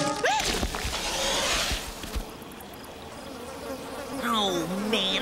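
Cartoon swamp bugs buzz and whine around a close listener, with swooping insect drones over a soft watery background and a few brief tones.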